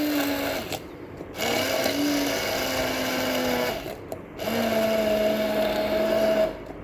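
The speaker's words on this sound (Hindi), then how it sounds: "अच्छी तरह इसको ब्लेंड करेंगे, ये यकजान हो जाए" A kitchen blender grinds coconut chutney ingredients in loud whirring bursts, running in three stretches separated by brief pauses, with pitch shifting as the mixture thickens.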